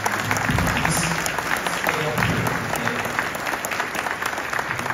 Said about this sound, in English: can we give them a round of applause for their ministry?